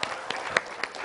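A studio audience claps on an Indonesian television show after a mural is presented, a short spell of scattered applause with a few sharper claps.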